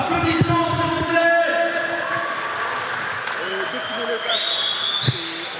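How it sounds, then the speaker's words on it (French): Applause rises from the audience at a boxing bout in the Hiva Nui tournament, French Polynesia, steady clapping mixed with crowd noise and voices, with some tonal sounds near the end. "Applaudissements s'il vous plaît."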